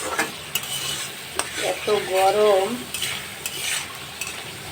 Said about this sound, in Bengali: মশলাটা সুন্দর করে কষাবো।